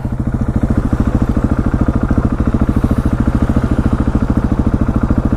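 A KTM 701 single-cylinder motorcycle engine running rough in winter, a loud, close, rapid pulsing idle with an uneven throbbing beat that persists throughout with no other sounds.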